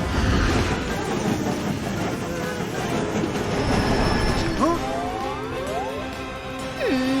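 A loud, steady rumbling of a moving cartoon super train fills the scene, with gliding synthetic tones and a short voice-like sound near the end.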